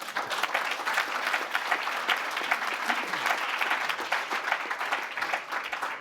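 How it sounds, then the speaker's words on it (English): An audience at an open-source awards event applauds with enthusiasm: steady, full clapping from a crowd in a hall, holding level for several seconds with faint voices underneath. "I see enthusiastic applause from your Dutch"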